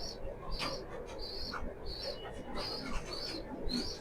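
Pigeons in a loft coo and call repeatedly, with a regular series of short, bright notes recurring about every half second amid a low murmur of birds, and a voice speaks intermittently.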